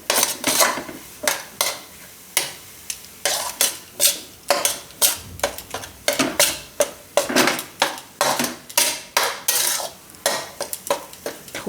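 A spoon stirring flour roasting in ghee in a pan for sukhdi, a Gujarati winter sweet, scraping and clinking against the metal in a steady repeated rhythm, close and fairly loud, with no talk.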